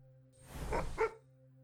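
A pet dog in the Last Epoch action RPG lets out two quick, close barks over a low droning game soundtrack.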